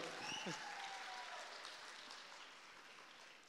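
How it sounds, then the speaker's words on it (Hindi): A comedy show audience applauds in a hall, a faint, distant wash of clapping that slowly tapers off, with traces of voices and laughter. "इस हॉल के लिए भी तालियां और इस खंदक के लिए भी तालियां"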